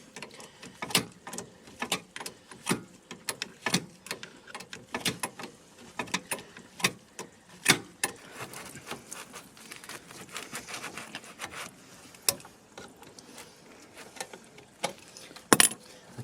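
Faint, scattered metallic clicks and rattles come from a spanner loosening the cold inlet pipe fitting on a leaky, corroded Grant Blue Flame boiler, with irregular taps and one sharper knock near the end.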